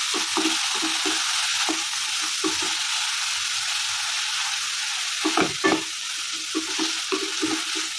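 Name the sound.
stirring and mixing fish curry ingredients in a sizzling pan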